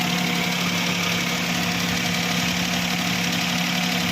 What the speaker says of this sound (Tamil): இப்போ முன்னாடி இன்ஜின் நாய்ஸை காமிக்கிறேன்